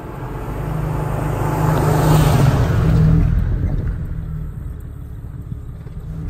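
Cummins diesel engine in a 1997 Jeep Wrangler TJ revving up, a heavy low rumble that swells for a few seconds then settles back to a steady idle, close and loud with no talking.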